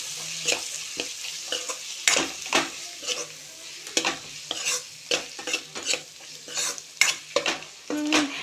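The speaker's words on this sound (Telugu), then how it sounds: "ఇప్పుడు మనం ఇందులో పసుపు అల్లం వెల్లుల్లి పేస్ట్ వేసి కలుపుదాం" Turmeric and ginger-garlic paste stir-fry in a pan for a capsicum masala curry, with a spoon scraping in repeated rhythmic strokes over a close, steady sizzle.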